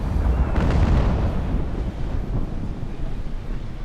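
Naval Action ship cannons fire a broadside in a heavy, rumbling wall of low booms that swells early, then rolls on as a dense, sustained roar with no talking.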